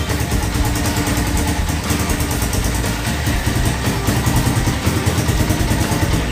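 A Honda Tiger motorcycle engine idles steadily at low revs, a continuous close mechanical rumble with light clatter and no voices.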